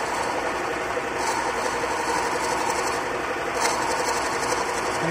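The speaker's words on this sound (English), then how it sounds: "In this way we can produce turning operation on a capstan lathe machine." Capstan lathe turning a workpiece, a steady, dense machine hum with a faint rasping texture that runs evenly throughout, close and moderately loud with no talk.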